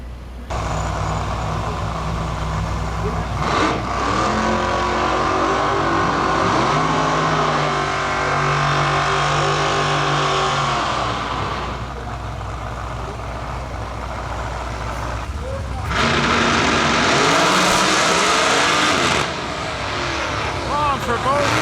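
Drag racing cars roar down the track in qualifying at the Lights Out 17 event, one long loud sustained engine howl with rising pitch, then a fresh blast of power later, under commentator talk.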